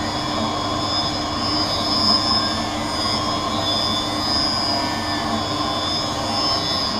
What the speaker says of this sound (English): So now it's applying the safety bevel to the rear surface of the lens.